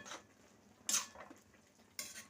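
A spoon scrapes three times around a pot of simmering moong dal cooked with amaranth leaves: short metallic strokes near the start, in the middle and at the end, with quiet gaps between.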